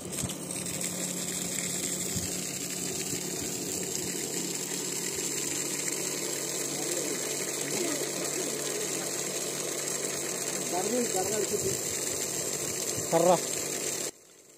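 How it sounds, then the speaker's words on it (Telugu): A steady mechanical hum from a Lubi 0.5 hp water pump motor with rushing water runs throughout, constant and fairly loud, then cuts off abruptly near the end. "మోటార్ అయితే వేద్దాం"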